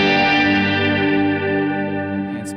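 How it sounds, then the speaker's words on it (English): A Boss RV-200 reverb pedal in a simulated chorus mode, sustained harmonic guitar tone with a slow LFO warble and wash of reverb, slowly decaying, loud and alone. "This is basically a simulated chorus with that LFO, you know, warble."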